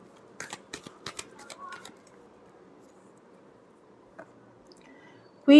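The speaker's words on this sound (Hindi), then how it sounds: "last shuffle" A short run of soft, irregular riffling clicks as a tarot deck is shuffled close by, then quiet with a faint tap and a brief loud burst at the end.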